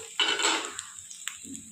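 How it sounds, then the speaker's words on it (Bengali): A metal lid lifts off a frying pan with a short clatter, then the food inside gives a brief soft sizzle and a couple of faint taps. "আমি একটু ঢাকনা চাপা দিয়ে দিয়েছিলাম এবার আমি খুলে দিলাম"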